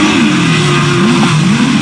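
Racing sidecar engines rev hard together at the start of a sidecar race, a loud continuous high-pitched roar with pitch rising and falling as throttles are blipped, close and dense.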